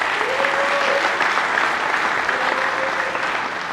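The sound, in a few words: audience applause at political rally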